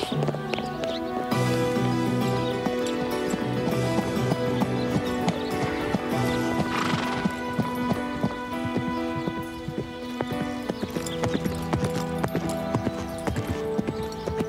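A horse at a show-jumping riding school clip-clops steadily at a near distance, hooves thudding in a regular rhythm under a bed of music, with a brief neigh.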